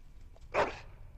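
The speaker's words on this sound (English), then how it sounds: "Bloody dog." A single sharp dog bark rings out in the Dragon Age: Origins video game, close and clear over a quiet background.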